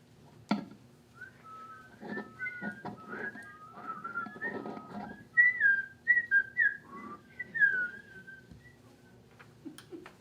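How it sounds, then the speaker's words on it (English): Soft whistling by people in a stage play wanders through short, melodic birdlike chirpy phrases, fairly quiet, with a few dull knocks and rustles underneath. "Everyone took to whistling for the bird, trying to encourage it."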